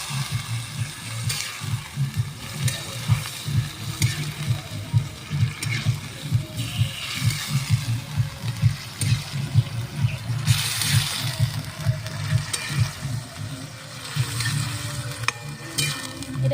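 Water from a rinsed bowl poured into doi chicken masala frying in a pan, giving a steady bubbling sizzle with trickling liquid throughout, close and continuous.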